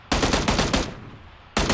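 Rapid automatic weapon fire in the video game PUBG: a loud, close burst of several quick shots, a brief pause with fading echo, then another burst starting again.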